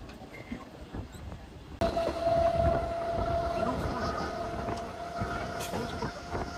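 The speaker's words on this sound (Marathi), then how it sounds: "फायनली ट्रेन पकडला आता." Mumbai local train ride near Thane: a short quieter stretch gives way abruptly to a loud, steady rumble and rattle of the moving carriages, continuous and close.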